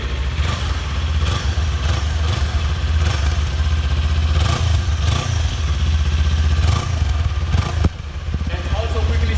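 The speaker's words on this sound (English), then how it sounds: "Let's rev the motor a little because this is new" A Kawasaki Ninja 400 motorcycle engine, brand new, idles steadily, then is blipped several times in short revs that rise and fall, loud and close.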